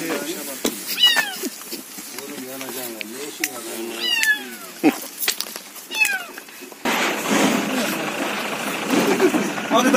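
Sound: kitten meowing inside a police car's engine

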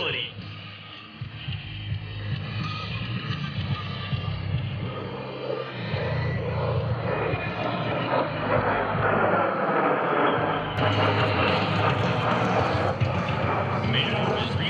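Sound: A-10 Thunderbolt II jet flying a roll at an airshow

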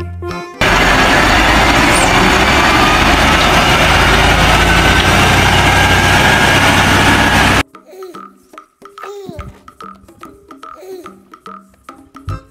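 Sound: tow truck engine idling

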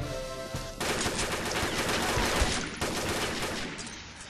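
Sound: gunfire in the video game Combat Arms

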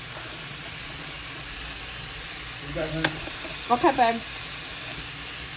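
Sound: squash and sausage stir fry cooking in a pan

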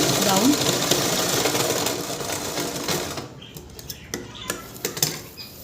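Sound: sewing machine stitching a saree fall onto fabric

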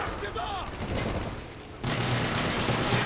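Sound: gunfire in the video game Call of Duty Black Ops

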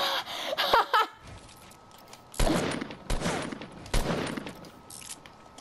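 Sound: gunfire from the Fortnite video game

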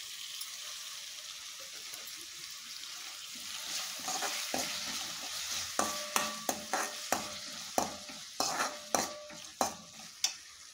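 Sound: tomato frying in a pan

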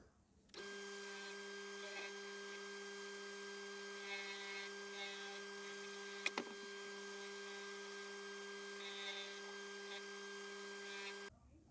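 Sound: sanding a wooden slingshot on a spindle sander

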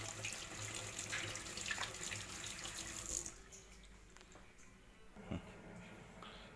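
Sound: hot water running from a tap

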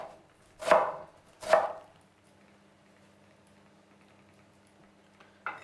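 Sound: chopping red onion into small cubes

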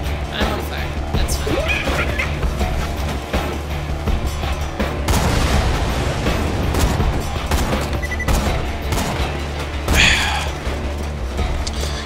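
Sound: gunfire in the video game Borderlands 2

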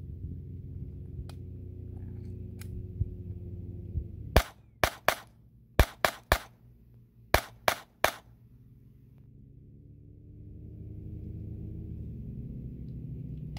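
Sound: gunshots at Quartzsite shooting range

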